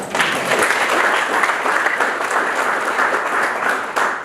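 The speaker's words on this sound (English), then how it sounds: "They deserve a round of applause" Audience applause at a talk, a dense, even wash of many hands clapping together, loud and sustained for several seconds with no break.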